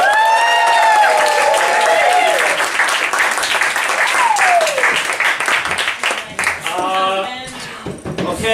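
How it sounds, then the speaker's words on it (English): An audience at a live improvised blank-verse event bursts into loud applause with some cheering, and voices ring out over the clapping before it thins and trails off. "we just need everybody to give Amelia a big round of applause!"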